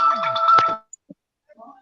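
A phone ringtone for an incoming call plays a short bright melodic phrase for under a second and then cuts off, followed by a few faint clicks.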